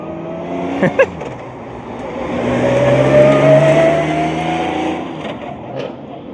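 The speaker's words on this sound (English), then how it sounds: "That was the sound of a Mustang." A Ford Mustang engine revs and climbs in a long, loud rising pull that peaks mid-way, then fades off, with a couple of sharp knocks just before it builds.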